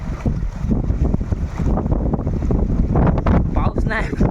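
Strong wind gusts up from below at the Machal hill viewpoint in Konkan, loudly buffeting the microphone in a constant rumble while people talk faintly underneath.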